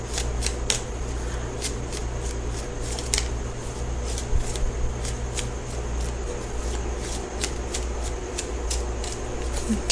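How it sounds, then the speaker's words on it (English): Tarot cards are shuffled repeatedly in quick riffling bursts, a crisp rhythmic flutter over a low steady hum. "So I'm going to shuffle for the outcome card."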